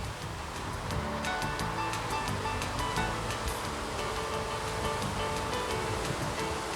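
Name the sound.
42-foot Bertram boat with MAN diesel engines under throttle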